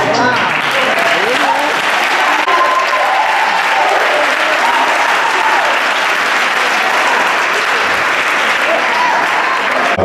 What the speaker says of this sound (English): can we applaud that pastor right now?